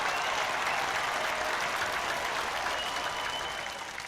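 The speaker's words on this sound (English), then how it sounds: "Milo, insert a big round of applause." A big inserted round of applause sound effect: a thick, continuous crowd clapping that holds steady and fades slightly at the very end.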